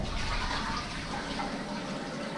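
A toilet tank refills after a flush, a steady rushing, gushing water sound that stays fairly quiet and close and slowly eases off, with no talking.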